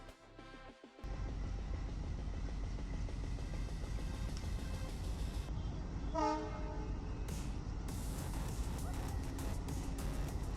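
A train rumbles and clatters loudly along the tracks for the whole stretch, and midway a short, bright horn blast sounds over the steady rolling noise.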